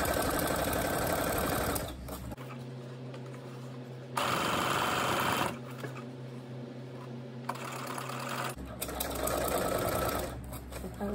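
Sewing machine stitching a glittery tutu for a one-year-old, running in steady loud bursts with brief pauses between runs of rapid stitching, no voices.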